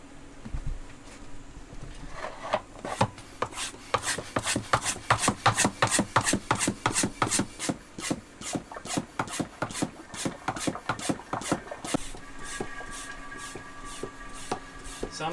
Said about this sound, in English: and I can pump my oil out